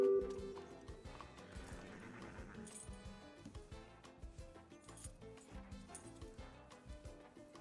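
Horse hooves clip-clop in a steady rhythmic gait in the Red Dead Redemption 2 video game, close and distinct, with a jingle of tack and a brief whinny, over a faint background of game music.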